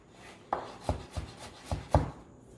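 Half a medium onion being cut into small pieces with a knife on a board, five or six distinct chops in an uneven rhythm, close and fairly quiet, with no talking.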